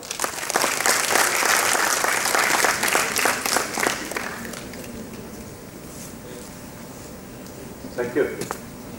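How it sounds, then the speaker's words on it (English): A seminar audience gives a large round of applause welcoming the chief guest, loud dense clapping for about four seconds before fading into room noise, with a short burst of voice near the end. "welcome him with a huge round of applause."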